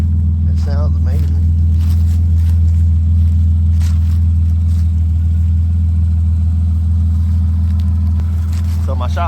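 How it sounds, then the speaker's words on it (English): A junkyard project car's engine runs close by, a loud, steady, deep idle with a rough rumble throughout, while a person talks over it. "Damn, I love the way this car sounds."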